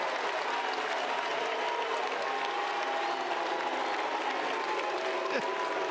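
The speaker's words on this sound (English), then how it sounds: "as they cheer him on here at the Bosch" A baseball stadium crowd cheers and applauds after a three-run home run in a college Super Regional game, a dense, sustained roar heard from within the stands without a break.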